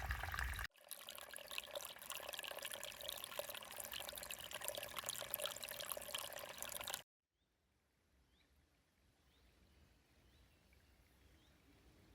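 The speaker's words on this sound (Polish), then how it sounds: "strumyk." Loud, steady rushing of a stream pouring and splashing close by, cutting off abruptly to a much quieter outdoor background.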